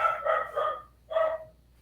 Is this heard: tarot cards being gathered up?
no